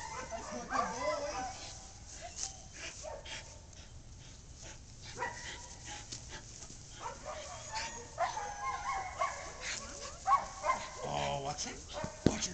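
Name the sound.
5.5-month-old puppy Deuce barking while biting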